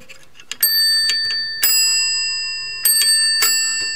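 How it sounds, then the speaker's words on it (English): An old telephone bell with two-tone gongs is struck several times, and each loud metallic ring sustains and slowly decays between strikes. "And the bell has gongs of two types, so you get like a two-tone effect."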